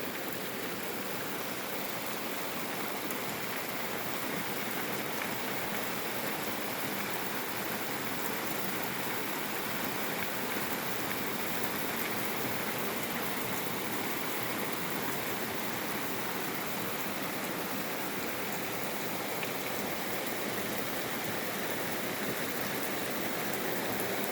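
Steady, dense rainfall hissing continuously without pause, an even wash of drops all around.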